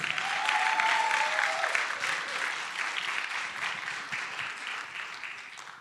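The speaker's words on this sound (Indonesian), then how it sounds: "Ini udah paling semangat, tepuk tangannya, ini Natal loh." Church congregation applauding at a Christmas service in New York, a dense, steady wash of clapping from many hands that starts loud and slowly fades over six seconds.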